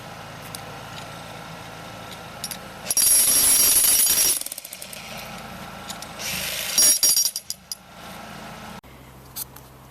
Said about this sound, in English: We took it down with the jackhammer so that it's just below grade